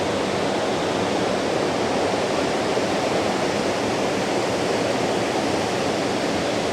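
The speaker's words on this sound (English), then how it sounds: "Look at the waterfall. You see all that water?" Water rushing down High Falls, a waterfall on a hiking trail, a steady loud broadband roar that holds constant throughout with no voices.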